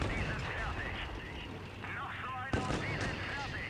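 Tank cannon fire in the mobile video game World of Tanks Blitz, booming shots over a constant engine and battle rumble, with game effects and a sharp blast near the end.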